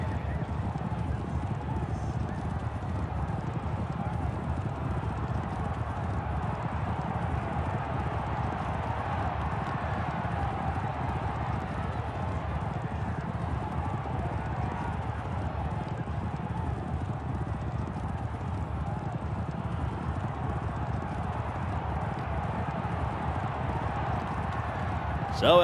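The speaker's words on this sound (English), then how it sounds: "So our winning horse is about to return to the winner's circle here for race number 8 on the card." Racehorse hooves at a Dubai racecourse clip-clopping steadily as the winner walks back after race 8, a soft, continuous rhythm under crowd ambience and light wind noise, with talk audible around it.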